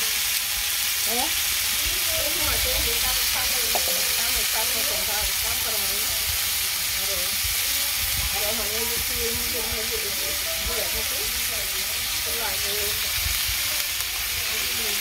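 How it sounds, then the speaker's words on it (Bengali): Bitter gourd and potato frying in a pan, a steady broadband sizzle and hiss with faint clinks and stirring scrapes throughout, close and continuous. "উচ্ছে আলু ভাজি করে উচ্ছে দিয়ে দিলাম"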